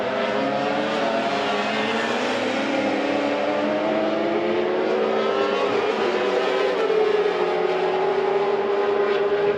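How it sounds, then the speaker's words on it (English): A Ducati racing motorcycle passes on a Thai race track during an Asia Road Racing Championship session, its high engine note sweeping and shifting pitch as it goes by, loud and continuous without speech. "Just heard the sound of a Ducati going by there"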